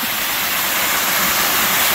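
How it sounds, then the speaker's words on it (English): Waterfall along the Ozark Highlands Trail in a wooded drainage, a loud steady roar of falling water that fills the whole moment without pause, close by and with no voices. "Well, here's another waterfall."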